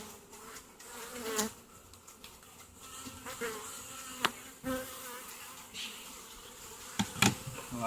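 Honey bees buzz around an open hive during a powdered sugar shake for varroa mites, a steady insect drone with occasional louder passes of single bees close by.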